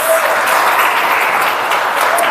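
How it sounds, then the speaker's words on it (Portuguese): Steady, loud applause from a church congregation, a dense continuous wash of clapping hands without pause. "Você pode aplaudir o Senhor em nome de Jesus."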